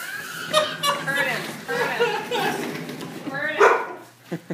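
Dogs bark outdoors in a few short, sharp bursts mixed in with people talking and laughing nearby.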